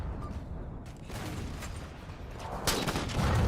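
Sniper fire in the Halo game Spartan Ops comes as a dense run of overlapping gunshots and booms from many snipers, with the loudest burst near the end.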